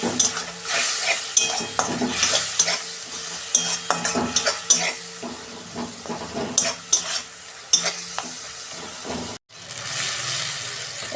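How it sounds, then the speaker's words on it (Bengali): Shrimp sautés in a pan with turmeric and ground coriander, a steady sizzle broken by the scrape and clink of a spoon stirring against metal, ending briefly in near silence before the sizzle resumes. "একটু কষাবো"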